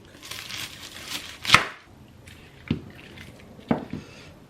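Several sharp knife cuts slicing into a whole head of garlic on a board while roasted tomato soup is being prepared: three distinct, close chops spaced about a second apart over a soft background.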